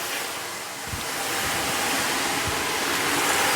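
Water jet blasting from a micro-hydro power pipe at about sixteen litres per second, making a loud, steady, close rushing roar that stays unbroken throughout, with no voices.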